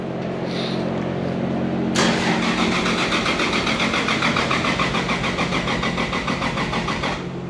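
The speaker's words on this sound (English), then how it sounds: "It's like cranking very slow." A Toyota Supra mk3 engine cranks slowly on a weak battery. A faint click comes first, then a loud, laboring starter churns in an even, rhythmic loop for about five seconds before cutting off.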